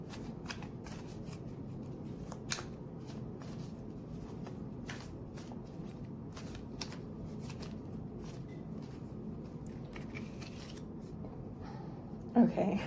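Tarot cards are shuffled by hand in a soft, steady riffle of light papery clicks and flutters, quiet and close, with a louder handling sound at the very end.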